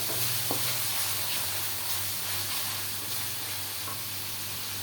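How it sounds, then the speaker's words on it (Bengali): Spice masala with green chilies frying in a pan, a loud steady sizzle and hiss with occasional stirring scrapes, close and continuous without talk. "হয়ে গেছে আমার মশলা কষানো"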